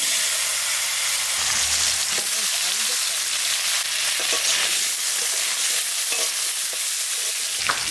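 Potatoes frying in hot oil in a pan, added after the fish for a curry, giving a loud continuous sizzle with a few light utensil knocks and no talking.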